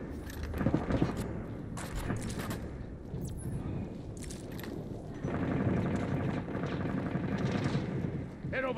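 Bursts of rapid gunfire in the PvP shooter game Synced, sharp repeated cracks in clusters over a busy background, with a denser stretch of fire later on.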